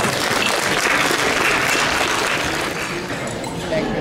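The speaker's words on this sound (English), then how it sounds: "So please join me in giving him a round of applause." Sustained audience applause fills an award gala hall, dense and steady for the whole stretch, with a faint clink or two beneath the clapping and no one speaking over it.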